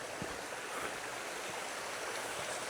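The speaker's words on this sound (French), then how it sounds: "Et là on suit du coup le ruisseau en montant." A stream flows beside a hiking trail leading up toward small cascades, producing a continuous soft rush of water with faint splashes, fairly quiet and steady, with no voices.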